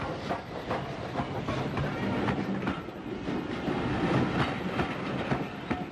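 Schools Class 440 steam locomotive passes on the up line in 1950s Kent, its train rolling by with rhythmic clickety-clack of wheels over rail joints, a steady mid-distance rumble throughout.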